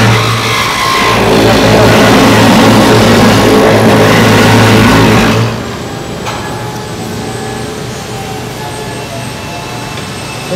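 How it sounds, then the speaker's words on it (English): Motor of a Norfield 3800 machine running loudly and close with a steady roaring whine while the bit plunges down, then the motor drops to a lower, quieter hum about halfway through. "turn on the motor with this hand, and then you just have to push this button."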